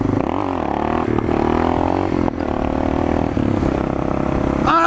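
A motorcycle engine revs hard during a wheelie, holding a loud, sustained droning roar with slight pitch swells and a brief dip before rising again.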